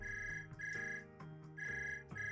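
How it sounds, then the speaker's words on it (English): A telephone rings in loud, repeated electronic tone bursts with short gaps, heard on its own without any voices. "Suddenly, a phone rings."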